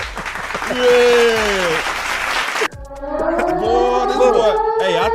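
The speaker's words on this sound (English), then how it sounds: "Clap it up for Landlord on investigating names" Clapping on a live sports talk show, loud and close, mixed with raised voices and a short spoken reply.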